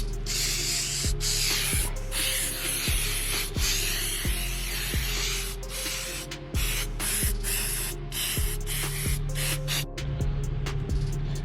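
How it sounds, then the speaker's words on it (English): Spray hosed steadily over a Yamaha F115 outboard engine, a continuous close hiss with regular clicks and knocks recurring every second or so. "Just spray the whole thing down. That's it. Spray everything."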